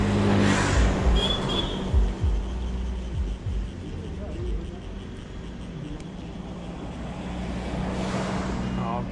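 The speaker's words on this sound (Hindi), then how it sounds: "हाँ, कितना ट्रैफिक चल रहा है रोड में।" Road traffic passes along a hillside road, with vehicles rumbling and whooshing by up close, one loud pass near the start and another near the end, over wind buffeting and voices talking.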